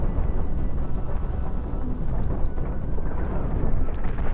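Spaceship weapons firing and exploding in the space combat game Cosmoteer, a dense, continuous rumbling barrage of blasts that stays loud throughout.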